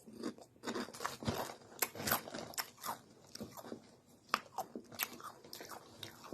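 Doritos Screamin Sriracha tortilla chips crunch and get chewed close to the mic in quick, irregular bites, sharp crackles repeating throughout with no talking.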